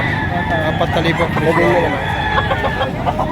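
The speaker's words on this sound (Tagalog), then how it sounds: "Ganda mga manok to." Roosters crow and hens cluck close by, with a couple of overlapping crows over a busy farmyard background and some talking.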